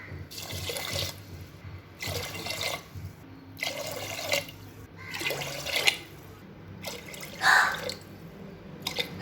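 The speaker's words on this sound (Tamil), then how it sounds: "இப்போ தண்ணி ஊற்றிக்கலாம்" Water pours into a cooking pot in several separate bursts, each a few seconds long with short pauses between, splashing and trickling close by.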